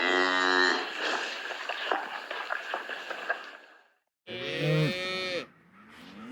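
Cattle moo during calving season on a cold, blustery night, with a newborn calf nearby. One long, loud, drawn-out moo is followed by a pause and then a second strong moo. The calls are close and carry no talk.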